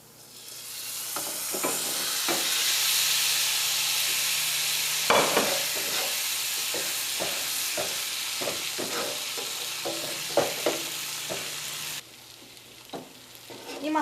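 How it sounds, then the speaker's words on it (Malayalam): Fried fish stirred into masala in a pan, a soft steady sizzle with intermittent scraping and tapping of a spoon against the pan, close and fairly quiet, with light music behind. "ഇനി നമുക്ക് ഈ മസാലയിലേക്ക് നമ്മൾ വറുത്ത് വെച്ചേക്കണം മീൻ ചേർക്കാം"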